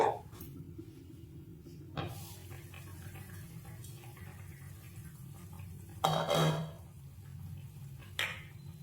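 Lid lifted off a pot of simmering chicken stew, a few short clanks and scrapes of metal spaced apart over a low, steady kitchen hum, fairly close.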